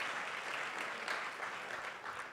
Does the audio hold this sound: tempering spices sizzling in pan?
no